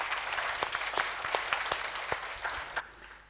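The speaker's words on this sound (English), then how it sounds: "Let's give them a round of applause" A live audience at a 2023-24 budget dissection event claps in a round of applause, dense and fairly even with sharp individual claps standing out, tapering off near the end.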